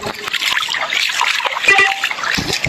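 Water runs down rock steps near a forest waterfall, a close and steady rush of splashing and trickling that lasts the whole moment.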